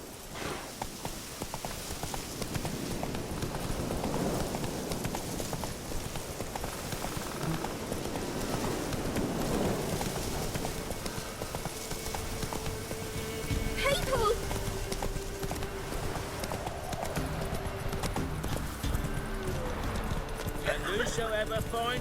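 Horse Roach galloping in The Witcher 3: Wild Hunt, a steady rapid clip-clop of hooves with rain-like ambience, continuing for the whole stretch amid game sounds and some speech.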